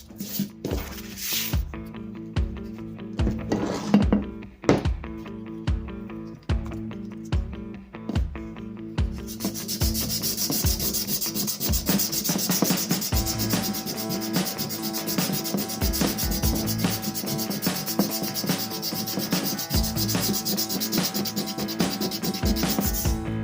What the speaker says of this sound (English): we're going to do this whole thing by hand, so sanding by hand